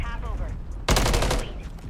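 Gunfire in the video game Call of Duty: Modern Warfare III, with a loud burst of rapid automatic shots lasting about half a second after a quieter lead-in with a faint voice.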